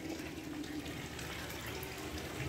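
Water pours and splashes steadily at an ancient Shiva temple, a continuous close rushing wash with no voices over it.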